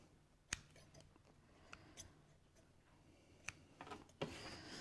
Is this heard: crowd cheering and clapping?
no